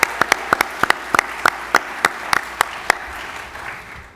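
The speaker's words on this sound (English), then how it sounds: "round of applause there too, please." An audience at a business challenge event gives a round of applause: a dozen or so loud, distinct claps at an irregular pace over a soft crowd murmur, thinning out and fading toward the end.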